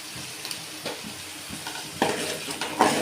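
Turmeric being stirred into a frying mixture in a pan for Andhra-style pulusu rice, with soft sizzling and a few scraping stirs and clinks of a utensil against the pan, growing louder toward the end.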